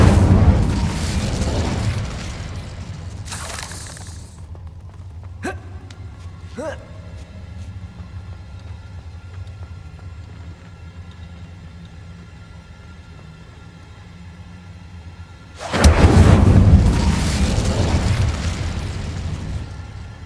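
Confringo and Incendio spell blasts in Hogwarts Legacy, booming in two loud explosive bursts, one at the start and one near the end. A quieter stretch with ringing magical tones sits between them.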